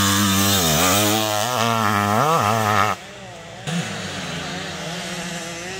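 A 1989 Honda CR500R motocross bike races at an MX338 American Classic Race Series event, its engine screaming loud and close with rising and wavering revs before abruptly dropping off to a quieter, distant drone.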